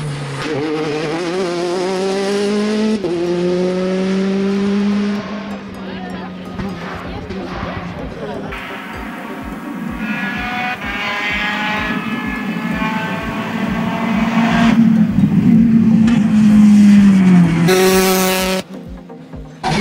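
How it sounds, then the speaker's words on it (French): Peugeot 208 rally car in the RC2 category at the 2021 East Belgian Rally, its engine note climbing and dropping through gear changes under steady French narration. "Au volant de leur Peugeot 208, ils gardent un rythme constant et gagnent des positions au fur et à mesure du rallye."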